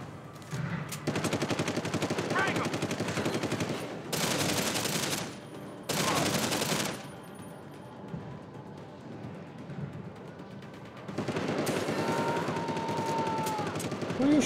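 Video game gunfire comes in several bursts of rapid shots, loud and close, with gaps of quieter game sound between the bursts.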